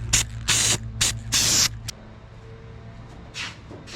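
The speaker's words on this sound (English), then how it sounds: "I almost forgot to spray our weld through primer on the inside here" Weld-through primer sprayed from an aerosol can inside a Nissan Gloria quarter panel, four close, loud hissing bursts of under half a second each, followed by quiet and one fainter short spray.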